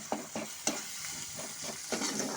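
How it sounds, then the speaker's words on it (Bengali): Rohu fish paste is stirred and mashed with salt and turmeric, a quiet, close series of soft squelching, scraping strokes in an uneven rhythm, with no voices. "লবণ হলুদের সাথে এখন মাছের পেস্টটাকে ভালো মতো করে মিশিয়ে নেব।"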